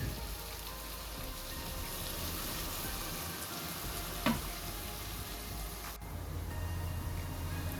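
Onions browning in frying oil for restaurant-style chana daal, a steady close sizzling crackle that runs the whole time with no talk, broken once by a brief sharp click.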